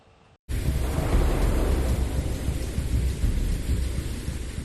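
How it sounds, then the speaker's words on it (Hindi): Torrential monsoon rain in Uttarakhand pours down heavily along with thunder, a dense, loud, continuous roar that starts abruptly and carries on without voices. "हफ्ते भर के अंदर मूसलाधार बारिश लगातार हो रही है।"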